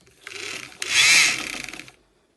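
A sewing machine stitches the long edge of a fabric face mask, a short close mechanical whirr that builds to a louder burst in the middle and then stops.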